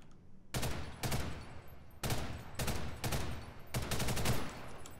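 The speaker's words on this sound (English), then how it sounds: "Shooting from the hip is fairly viable depending on the weapon" Video game weapon fired from the hip in rapid, loud automatic bursts, about six volleys of close gunfire separated by short pauses.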